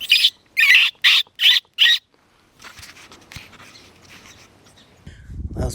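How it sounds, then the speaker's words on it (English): Five sharp, evenly spaced barks from a coyote close by in Theodore Roosevelt National Park at night, loud and alone, followed by quieter rustling and faint background sounds with a low thump at the end. "Sounds like a dog barking, but of course it's a coyote right behind me."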